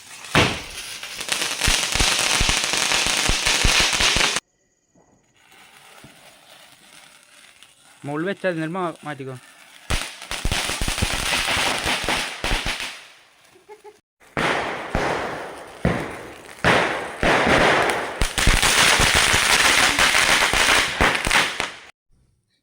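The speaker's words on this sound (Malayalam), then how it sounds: "അധികം സൗണ്ട് ഇല്ലാത്ത ചെറിയ ചെറിയ പടക്കങ്ങളാണ്" Small, low-noise firecrackers bursting at a home Vishu celebration, loud rapid crackling strings in bursts separated by pauses, with brief talking and a short voice between volleys.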